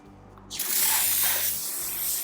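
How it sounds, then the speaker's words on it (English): A foam cannon loaded with Incredible Suds soap bursts into a steady, loud pressurized hiss as it sprays onto the quarter panel of a very dirty car. The spray starts suddenly and keeps going without a break. "And that's Incredible Suds in our foam cannon"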